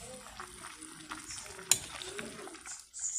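Ginisang sinigang with plenty of kangkong being stirred in a pot, a soft continuous scraping and simmering sizzle with a brief sharp clink of the utensil partway through.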